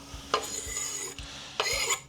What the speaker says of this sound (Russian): Так что теперь отправляем это в кастрюлю.